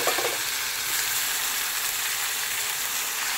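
Raw chicken hits hot oil in a pan for a homemade chicken curry, giving a steady, loud broadband sizzle that holds evenly throughout with no talking.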